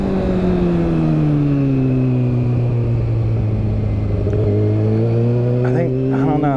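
A Kawasaki Ninja 650 or 636 on a test ride gives a steady engine note that sags slightly, then climbs again as the throttle opens, heard close, with wind buffeting and a brief rattle near the end.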